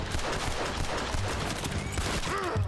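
Rapid gunfire in Red Dead Redemption 2, a dense burst of shots crackling over a noisy game backdrop for a few seconds.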